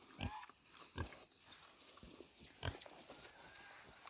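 A pig eats pig food on a snowy farm, a few faint grunts and crunching, snuffling sounds scattered over several seconds with no talking.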